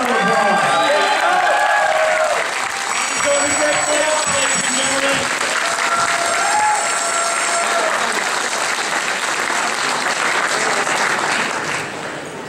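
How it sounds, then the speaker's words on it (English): Loud crowd applause with some cheering erupts at a charity auction after an item is sold, dense clapping carrying on steadily and tapering at the end, with a few voices calling out over it. "Everybody give them a round of applause."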